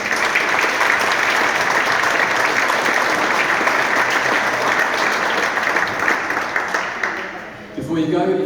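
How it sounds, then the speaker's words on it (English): Football development programme graduates and families give the Manchester City coaches a long, loud round of applause filling the lounge, sustained and dense before fading near the end as a voice begins to speak. "Give them a big round of applause as well."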